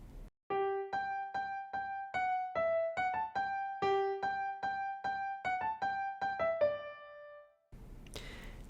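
Easy piano arrangement of a song, a steady run of clear sustained chords and melody notes played close and alone, fading out before a short burst of rustling noise at the end.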